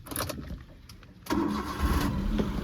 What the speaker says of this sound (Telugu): సో నేను ఇంజన్ అయితే స్టార్ట్ చేసిన